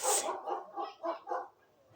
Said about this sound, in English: dog's barking everywhere